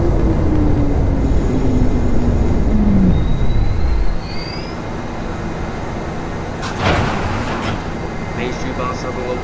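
An R62A 7 subway train in the OpenBVE train simulator, a loud motor whine that descends as the train slows to a stop, followed by a quieter idle hum and a door chime sequence.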